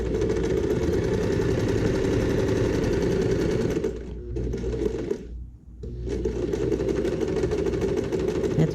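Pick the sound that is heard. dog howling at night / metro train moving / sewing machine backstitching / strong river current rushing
sewing machine backstitching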